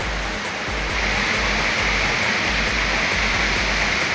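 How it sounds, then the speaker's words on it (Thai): A tall waterfall in Chanthaburi, Thailand pours down in a loud, continuous roar of rushing water, steady and close throughout with no voices. "นี่ครับน้ำตกผิวข้างบนนะครับ"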